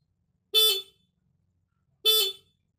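Two short, bright motorcycle horn beeps with a pause between them, each clear and close against silence.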